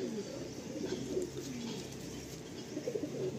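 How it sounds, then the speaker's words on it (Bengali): A female racing pigeon coos in repeated soft, low throaty phrases close by, over a steady background hiss, with no talking. "খুব ছটফটে পায়রা, মানে খুবই চঞ্চল পায়রা।"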